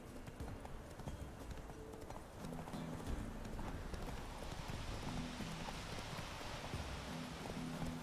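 Horse hooves clip-clop at a steady walking rhythm in The Witcher 3 video game, over a constant low background of ambient game sound.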